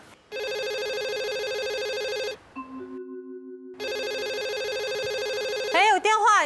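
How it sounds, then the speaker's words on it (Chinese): A telephone rings with a loud electronic melodic ringtone that plays, pauses briefly with softer tones, then resumes before a voice cuts in at the very end. "电话。"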